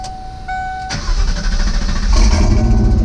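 A Ford Mustang engine cranks over briefly and then catches, roaring up loud and close and settling into a rough, steady idle with no talking.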